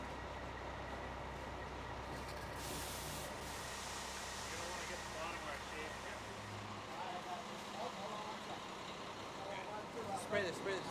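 Sprayer applying a plaster-like wall finish to the front and top of a concrete landscaping wall outdoors, a steady broad hiss running continuously under a low engine-like drone, with talking in the background.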